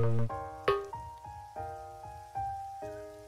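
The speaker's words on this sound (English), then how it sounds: "this one includes the sound effect of raindrops falling" Raindrop sound effect from the Lemmings Uncharted video game, a series of distinct plinking drops falling at irregular intervals, each with a bright ringing tone that decays, clear and fairly close over quiet background.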